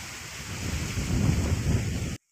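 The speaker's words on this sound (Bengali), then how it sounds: "কি শান্তির বাতাস" Wind blowing outdoors in a field during kite flying, a steady rushing roar buffeting the microphone, strongest in the middle, then cutting off abruptly.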